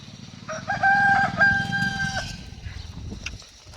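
A multicoloured rooster crows once near the listener, a loud, clear, drawn-out cock-a-doodle-doo lasting under two seconds that trails off into faint farmyard background.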